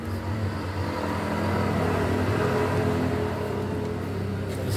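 Honda Beat scooter with a badly sputtering engine fault revving close by, a loud sustained engine drone that swells and holds without talk.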